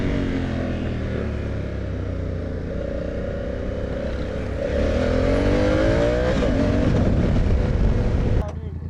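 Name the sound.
motorcycle engine revving while riding in second gear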